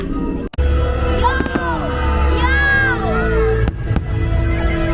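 Fireworks display at Disney California Adventure with booming bursts and crackles, a crowd cheering and whooping throughout, with steady background noise and a sharp dropout early on.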